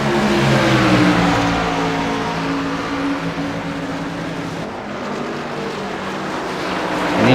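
Race cars circling a track in a televised race, a steady loud engine drone that swells slightly as cars pass, heard alone without talk.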